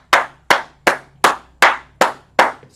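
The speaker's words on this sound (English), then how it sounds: "Clap it up for sister" Seven slow, evenly spaced hand claps, sharp and close, each one ringing briefly before the next.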